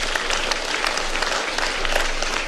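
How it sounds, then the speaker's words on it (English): A crowd at a Kenyan 2022 election gathering breaks into brief, dense applause, many hands clapping together in a loud, continuous wash. "Let's give ourselves a clap."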